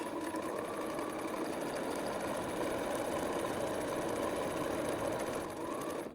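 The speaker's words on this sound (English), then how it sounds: "And then we're just going to stitch." A sewing machine stitches a zip bag made from scrap fabric, running in one continuous, loud, close whirr from start to finish before stopping abruptly, with no voices.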